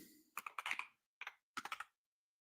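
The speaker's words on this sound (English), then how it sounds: "if I can type right." Computer keyboard typing in quiet bursts: a quick run of about six keystrokes, a short pair of taps, then another run of four or five keys, fairly faint and close, with no talking.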